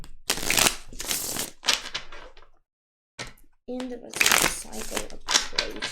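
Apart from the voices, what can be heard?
shuffling tarot cards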